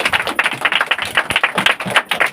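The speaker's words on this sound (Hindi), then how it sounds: "आज हमारी बहन हमारे बीच में आई, तो हम इनके लिए जोरदार ताली बजा के स्वागत करेंगे" A church congregation at a Sunday holy communion service claps loudly and steadily for a newly arrived sister, with dense, overlapping handclaps throughout.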